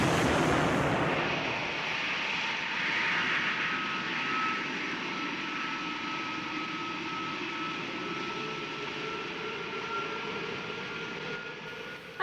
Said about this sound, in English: This rocket is about to take off on a journey into space.